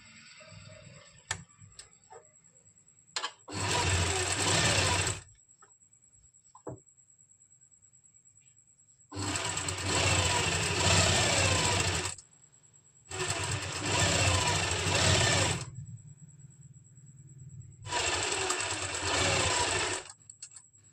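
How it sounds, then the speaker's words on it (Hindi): A sewing machine double-stitches a kameez in four separate runs, each a loud, rapid whir lasting a few seconds, with quiet pauses and small handling clicks between runs. "यहाँ पर भी हम डबल स्टिच कर लेंगे।"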